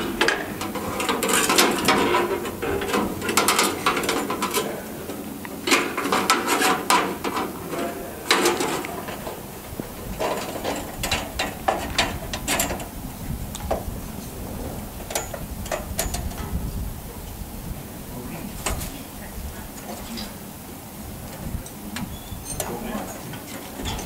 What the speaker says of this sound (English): The operator will now attach the new blade to the machine.